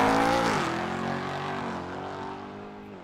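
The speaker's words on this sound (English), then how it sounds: "And car 426 is off and running." A 2017 Ford GT race car pulls away at a road race in Halsey, its loud engine note sweeping up then settling into a steady, slowly fading drone as it moves off.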